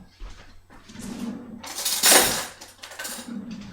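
A tablespoon fetched from a kitchen drawer: metal cutlery clinks and rattles in a few bursts, with one louder jangle in the middle, close and clear.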